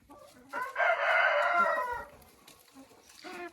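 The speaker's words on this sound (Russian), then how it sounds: "Куры пьют воду здесь." A rooster inside a winter chicken coop with clean litter crows once, loud and drawn out, with hens clucking softly around it and no talking.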